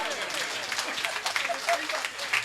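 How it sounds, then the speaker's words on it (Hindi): An audience at a live Hindi comedy show claps, giving a brisk, steady patter of many hands, with voices and a few louder claps showing through near the end. "बाकी आप समझ के तालियां बजाकर बता दे।"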